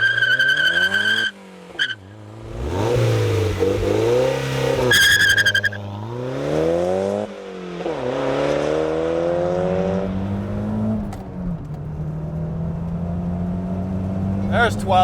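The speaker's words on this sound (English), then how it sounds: "I think it's time to do a quick pull here." A car's engine accelerating hard through a quick pull, rising revs climbing in pitch through several gear changes, loud and close, with tire noise and no talking.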